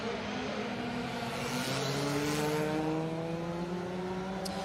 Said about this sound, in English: Evie Joanne Ewing alongside in that BMW Compact, fighting for grip.